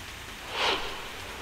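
Heavy rain pours down in Vashi taluka of Dharashiv district, an even, close hiss of falling water. A brief louder swell rises in the middle of the clip, then it settles back to the steady wash.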